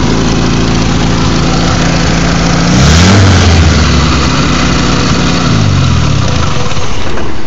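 Original engine of an Austin-Healey Bugeye Sprite restoration project runs loudly and close, idling with a rough mechanical drone and then revving up and back down twice, no talking.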